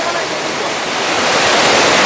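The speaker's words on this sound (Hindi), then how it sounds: "जो पानी झरने का जो पानी है वो नीचे वो डैम के पास चला जा रहा है" Bamani and Turga Falls at Ayodhya Pahar, Purulia, give a loud, close, steady roar of falling water that swells slightly, with no break.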